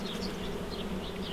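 Wild honeybee swarm massing at a hive, giving a steady, dense buzzing drone of many wings that fills the whole moment close by, with no voices over it.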